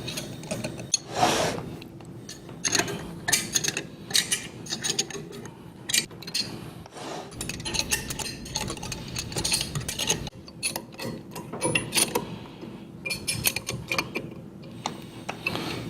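Valve actuator mounting nuts on a rack and pinion actuator are tightened with a ratcheting wrench, giving close, quick bursts of clicking ratchet strokes in irregular runs with brief pauses, with no speech.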